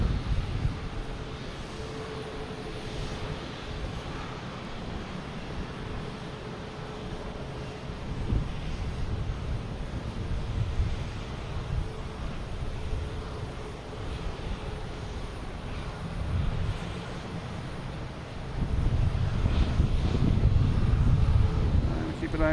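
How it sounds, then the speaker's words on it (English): Airliner landing and taxiing at Boston Logan Airport, a broad jet-engine rumble that builds and swells louder toward the end, heard from outdoors with wind noise and people talking intermittently underneath. "when we have a big plane land, we have a plane pulling in here. That's going to make a ton of noise"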